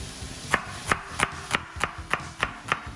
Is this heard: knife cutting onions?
yes